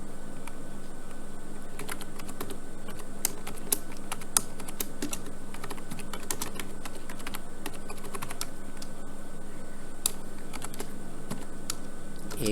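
Typing on a computer keyboard while entering an Oracle SQL SELECT subquery, with steady soft key clicks and a few sharper taps over a constant low fan hum throughout.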